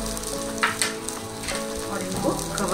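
Oats cutlets fry in a little oil over a medium gas flame, giving a steady close crackling sizzle with scattered pops and spits.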